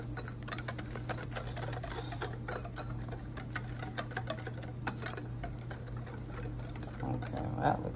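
A whisk gives regular rice flour batter a first mix for Thai fried bananas, making a fast, even patter of small ticks and scrapes against the bowl that runs the whole time, close and fairly soft, with a slightly louder knock near the end.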